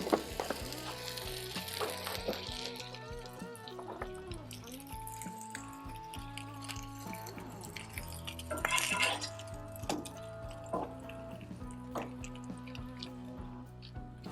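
Smoked shredded beef sizzles on a Blackstone griddle under a hot press, giving a steady quiet frying hiss with drips and pops and a tonal hum in the background.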